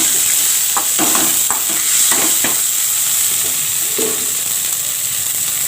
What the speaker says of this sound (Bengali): এবার এটাকে আমি ভালোভাবে কষিয়ে নেব।